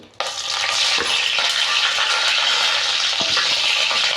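Green chillies hit hot oil in a pan for gongura chutney, bursting into a loud, continuous sizzling crackle that stays steady and close throughout, with no voices.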